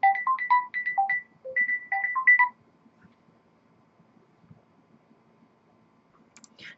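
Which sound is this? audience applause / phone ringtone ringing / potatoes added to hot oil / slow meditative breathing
phone ringtone ringing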